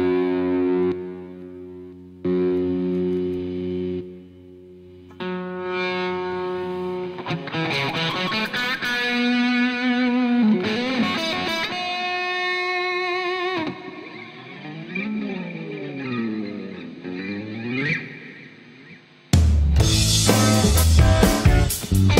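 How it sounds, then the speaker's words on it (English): An electric guitar with heavily boosted distortion plays sustained bent notes and choppy phrases over a backing track, with echo and effects, some pauses between phrases, and a burst of louder full-band sound at the end. "So I need to boost the distortion on the guitar big time"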